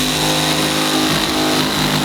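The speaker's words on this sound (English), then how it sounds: "the sawzall is a little bit too shaky and it's breaking the board" Reciprocating saw (Sawzall) cutting a wooden board and shaking it hard, a loud close continuous buzzing motor roar with rapid chattering strokes, steady through the whole brief burst.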